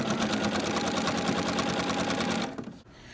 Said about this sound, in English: continue stitching down that side of the table runner